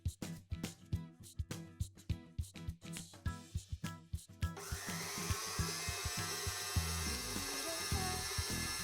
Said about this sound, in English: Now, cream the butter and sugar together for 5 minutes on medium speed.